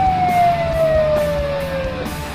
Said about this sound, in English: Move aside, let the ambulance through.